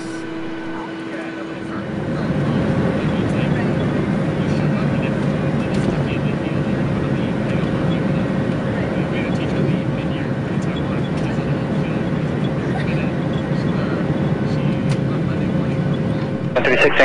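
Airliner's engines spool up to a steady, loud roar that holds under a constant whine for a takeoff roll in Microsoft Flight Simulator, after a brief quieter hum at the start.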